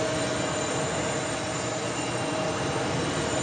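A Delta CRJ 900 regional jet at New York's JFK airport gives off a steady, unbroken broadband jet roar that holds at an even level throughout, with no voices.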